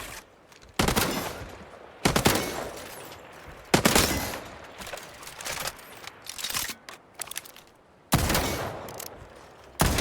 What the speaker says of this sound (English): We can start by firing your weapon. Go ahead. Take some shots.